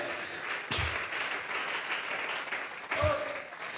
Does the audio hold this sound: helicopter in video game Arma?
no